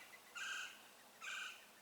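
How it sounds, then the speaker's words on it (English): A wild bird in the Arizona desert gives two clear, bright calls about a second apart, each lasting around a third of a second, heard alone against quiet open air. "Hear that bird?"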